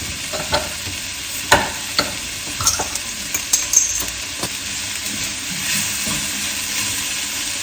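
Chopped white onion, other vegetables and garlic sizzle in a pan. A continuous, close frying hiss carries a few sharp utensil clinks and taps against the pan, with no voices.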